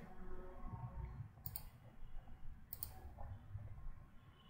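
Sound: computer mouse click on save button

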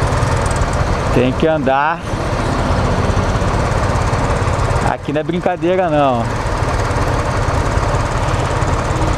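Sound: motorcycle engine in traffic

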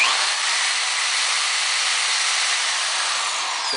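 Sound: electric drill running on solar inverter power

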